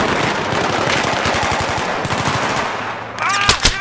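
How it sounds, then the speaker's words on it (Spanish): Rapid automatic gunfire in the video game Battlefield 3, a loud sustained burst of shots with more bursts and a couple of heavy booms near the end. "No mames, todavía ni llego, ya me están disparando"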